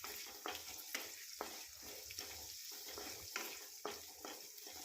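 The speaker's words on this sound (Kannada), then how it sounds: "ಈರುಳ್ಳಿ ಎಲ್ಲ ಹಾಕಿ ಫ್ರೈ ಮಾಡ್ಕೊಬೇಕು." Chopped onion, green chilies and mustard seeds fry in about two spoons of hot oil, a steady faint sizzle broken by soft scraping stirs, with no voices.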